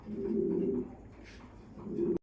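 A Lahori pigeon coos twice, low throaty warbles close to the listener, separated by a brief quiet pause.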